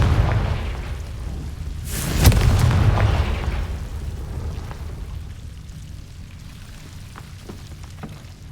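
A Confringo fire spell bursts in Hogwarts Legacy, a loud booming explosion with a crackling whoosh that rises sharply and then fades into a long rumbling tail over steady background noise.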